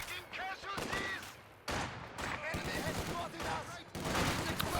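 Machine gun fire in a real-time strategy game battle: repeated loud bursts of rapid shots in close succession, with brief gaps between volleys and a steady din of combat underneath.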